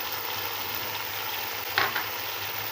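Vinegar poured into aloo matar pulao in a hot pan sets off a steady frying sizzle, with a brief brighter hiss flaring up near the end.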